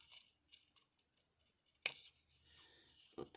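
Scissors cut material for a sewing-machine Altoid tin craft, giving one crisp close snip followed by soft rustling and a second short cut at the end, with no voices.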